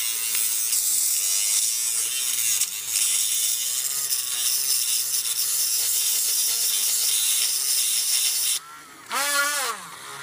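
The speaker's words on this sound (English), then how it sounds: "Just use really, really rough grit sandpaper." A plastic part for a 1/100 Virgo model kit is worked with very rough-grit sandpaper, producing a continuous close, buzzing abrasive grind with a wavering rhythm that breaks briefly near the end before resuming.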